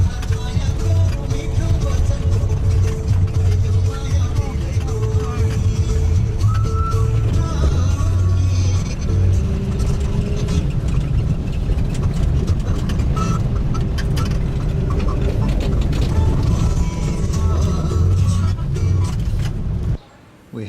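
A bus engine drones steadily on a long road trip back to Kathmandu, with constant rumble and road noise and voices heard intermittently over it.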